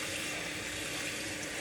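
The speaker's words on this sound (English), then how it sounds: "fill the pot with water." A pot filling with water from a kitchen tap, a steady, close, rushing stream of water with no pauses and no voices.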